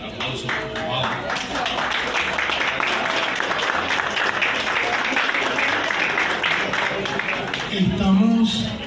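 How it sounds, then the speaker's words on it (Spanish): Applause from an audience at a Caracas concert-promotion event, steady dense clapping filling the whole stretch with voices mixed in, swelling slightly near the end. "Aplauso."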